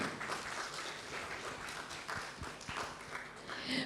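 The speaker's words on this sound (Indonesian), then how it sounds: "Boleh tepuk tangan lagi" Audience applause at a cultural heritage symposium, a quiet, fairly distant wash of many hands clapping steadily for a few seconds with a few sharper individual claps standing out.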